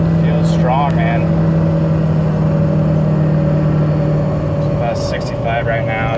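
A Ford F250 pickup's engine hums steadily at highway speed with a low drone and road noise, and someone talks briefly over it near the start and end.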